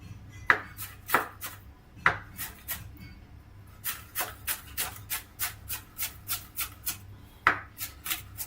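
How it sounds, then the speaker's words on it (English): A kitchen knife chops an onion, giving fairly quiet, crisp taps in irregular bursts, sometimes quick runs and sometimes single strokes, with no talking. "Always remember to use cat's paw when you're chopping veggies."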